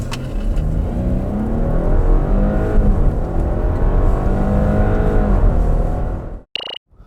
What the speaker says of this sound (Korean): 이번에는 아우디 Q7 55 TFSI, 과연 가속 성능은 어떻게 나오는지 볼까요?